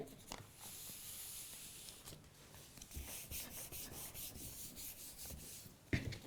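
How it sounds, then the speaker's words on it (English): PVC sheet is rubbed down onto lampshade fabric for a hexagon lampshade, making a faint, soft, continuous scuffing with a small bump near the end and no speech. "just keep pulling that away and rubbing down, and all you're doing is you're adhering the PVC onto the fabric"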